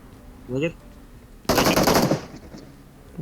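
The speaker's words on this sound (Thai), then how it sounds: "ยิงใครนั่นน่ะ" Automatic gunfire from PUBG Mobile rattles out in one dense burst of about half a second, loud and close, with a brief voice heard just before it.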